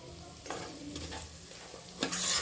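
Chicken curry masala fries with coriander and chilli powder in a pan, a steady close sizzle with scraping stir strokes and a louder stir near the end, without talk.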